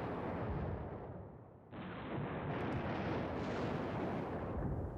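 Dense, continuous rumbling artillery barrage in the wargame Command Ops 2, a steady roar of layered booms that swells slightly partway through.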